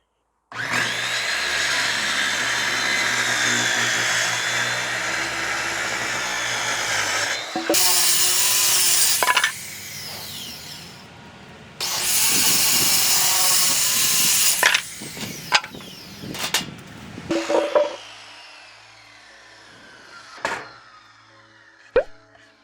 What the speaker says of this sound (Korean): 내가 자를 자리를 전기톱으로